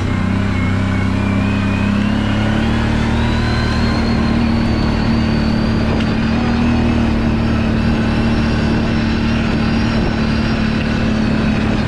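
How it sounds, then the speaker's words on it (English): A lifted ATV with Elka shocks crawling over big rocks, its engine droning loud and steady throughout with slowly rising pitch, no talk. "Let's ride a little bit more of some of these big rocks, see how smooth it is."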